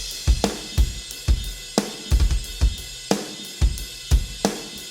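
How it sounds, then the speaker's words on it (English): Electronic kick drum layered with an original acoustic kick, repeated deep punchy thumps in an irregular groove with sharp transients and booming low end, alone and close with no voices. "that sound is just a doubled up kick drum sound to help me enhance the original kick"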